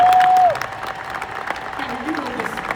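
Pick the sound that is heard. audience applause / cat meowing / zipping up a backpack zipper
audience applause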